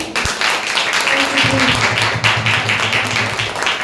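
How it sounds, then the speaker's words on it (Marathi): A church congregation claps steadily in a reverberant hall, dense and loud throughout, with a voice and low tones rising under the clapping. "टाळ्या वाजवा देवासाठी"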